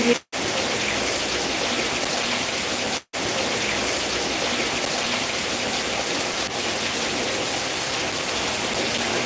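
Steady rain falling as a dense, even hiss across the whole span, close and continuous, broken by two brief dropouts.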